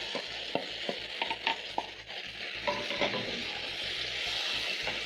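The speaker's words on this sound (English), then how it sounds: "So I'm going to stir in my matumbo and cook for around a minute as the tomatoes are cooking down." Boiled matumbo tripe stirred into tomatoes cooking down in a pan, a spatula scraping and tapping against the pan over a soft steady sizzle.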